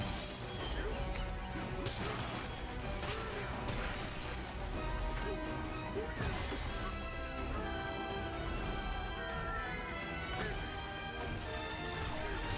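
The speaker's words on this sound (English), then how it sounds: "Take out some rage as Donkey Kong just smashing everything." Donkey Kong smashes everything in a Nintendo Switch 2 game trailer, with loud, repeated crashes and thwacks layered over busy music throughout.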